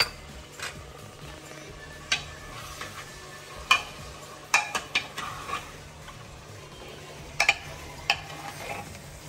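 A spoon stirring mutton kadahi with ginger garlic paste in a pan, with a faint sizzle underneath and scattered sharp scrapes and clinks against the metal, close by.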